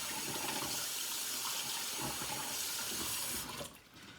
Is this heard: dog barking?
no